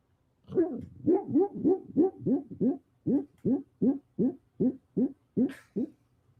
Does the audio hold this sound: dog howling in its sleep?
yes